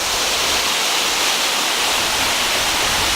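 A hidden mountain waterfall near Fukuoka, Japan, roars steadily and loudly up close, a dense unbroken rush of falling water with no voices.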